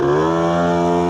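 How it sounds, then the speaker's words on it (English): A two-stroke engine on a mini police car revs hard and steadily, a loud buzzing drone with strong harmonics held for a second or so, close by with no talking. "Oh, a two-stroke sound."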